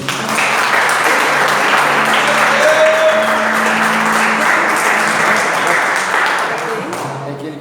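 A church congregation applauds steadily and loudly at a Friday campaign service, a dense sustained wash of clapping with voices mixed in, tapering slightly near the end.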